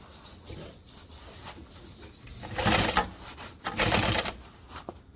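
A sewing machine stitches backpack fabric at a long stitch length in two loud bursts of rapid clatter, separated by quieter handling sounds and light mechanical clicks.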